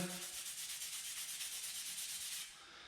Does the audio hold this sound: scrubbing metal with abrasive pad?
yes